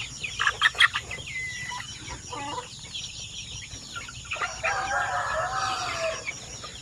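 Chickens cluck and crow nearby on a Philippine farm as two roosters are kept apart, with loud bursts of calls early on followed by quieter clucking and a drawn-out crow over faint background noise.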